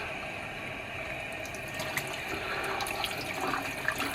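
Tap water runs steadily while a human-hair wavy wig is rinsed in a sink, a continuous close splashing hiss with small irregular spatters, no voices.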